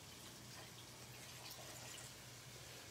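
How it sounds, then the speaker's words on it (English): About two cups of water pour steadily into a cooking pot for chicken broth, a continuous close gushing fill with no talking. "And about 2 cups of water, and that will make the chicken broth."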